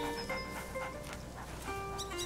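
Soft, high dog whimpers and whines from the video game A Plague Tale: Innocence come in short bursts over a steady low background hum, fairly quiet, with small tonal chirps scattered throughout.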